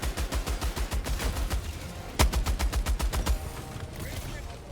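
A heavy machine gun fires in a video game in rapid rhythmic bursts, roughly a dozen close, punchy shots before a sharp louder blast and another quick burst, then the firing stops and only faint background noise remains.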